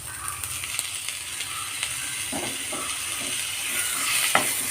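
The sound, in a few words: tomato added to frying pan, sizzling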